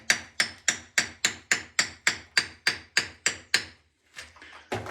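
Eleven evenly spaced, sharp hammer blows drive a small chisel into old stonework inside a ruined stone farmstead. Each strike rings out loud and close, followed by a pause and a few softer scraping knocks.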